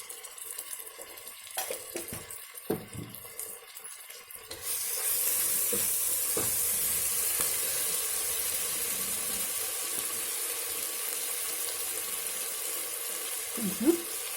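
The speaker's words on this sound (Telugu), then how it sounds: "దీంట్లోనే ఒక 2 స్పూన్లు అల్లం వెల్లుల్లి పేస్ట్ వేసుకోండి." Ginger garlic paste drops into hot oil in a pan and starts a steady, close sizzle that fills the second half. Before it, there are scattered clinks and stirring sounds, and a light scrape comes near the end.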